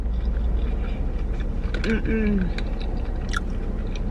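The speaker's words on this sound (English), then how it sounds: "You hear that crunch?" Close-up crunchy chewing of fresh McDonald's food, with repeated bites and mouth noises, while a voice speaks briefly partway through.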